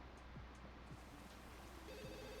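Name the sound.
telephone ringing in video game The Sims 2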